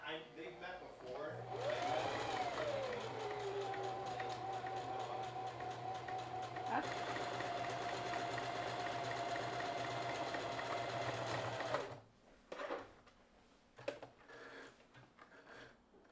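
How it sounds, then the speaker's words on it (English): A sewing machine stitching around a fabric book sleeve, a steady close whirring hum running for about ten seconds before stopping, followed by quiet handling noises. "So I'm going to sew all around this and then we'll turn it inside out."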